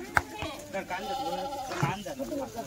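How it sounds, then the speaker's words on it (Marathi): Kathewadi goats bleat in a few short calls while being unloaded from a vehicle, a sharp cry near the start and another toward the end, with voices talking throughout. "हे पाहत आहे शेळ्या उतरत आहेत"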